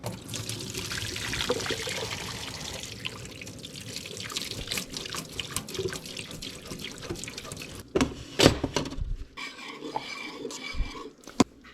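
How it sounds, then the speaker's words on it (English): Water pours and splashes into a sink as a spaghetti pot is drained, a steady gushing with clanks and metallic knocks toward the end. "I'm fixing to drain off the spaghetti"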